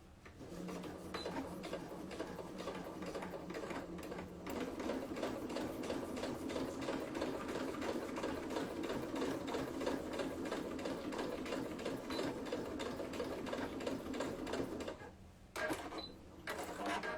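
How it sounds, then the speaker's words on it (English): Singer 9960 Quantum Stylist sewing machine stitching through thick canvas, a steady rapid mechanical whirr with fast needle clatter running continuously, close and loud, briefly pausing near the end before resuming. "our 9960 Quantum Stylist. And this is a thicker material, but it sews through this so easily"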